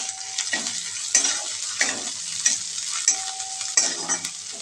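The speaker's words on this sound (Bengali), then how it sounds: "দিয়ে আবার একটু মশলাগুলোকে ভেজে নেব।" Chili powder and spices fry in hot oil in a pan for mini Moghlai paratha, a close, steady sizzle broken by regular scraping stirs roughly every second.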